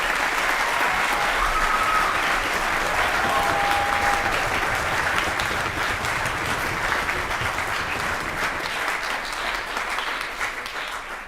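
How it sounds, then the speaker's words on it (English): An audience at a middle school orchestra concert gives a long, loud round of applause for the 8th grade students, many hands clapping steadily for over ten seconds before fading. "So can we have a huge round of applause for our 8th graders?"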